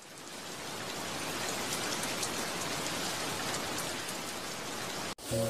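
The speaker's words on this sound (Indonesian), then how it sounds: "mohon hujannya diberhentikan dulu, ditunda dulu" Steady, dense rain falls in the game Sakura School Simulator, a continuous loud downpour hiss with no voices that cuts off abruptly near the end.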